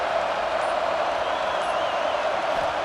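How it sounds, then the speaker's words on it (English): Crowd noise filling a football stadium in the NCAA Football 26 video game: a loud, continuous roar that holds steady throughout, with no distinct cheers or voices standing out. "listen to this crowd noise. This stadium is vibrating."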